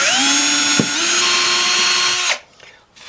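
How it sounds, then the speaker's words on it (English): A power drill with a bit bores holes into a guitar fretboard, a steady high whine running about two seconds before stopping abruptly, close and loud with no talk. "So let's drill these out with a bit"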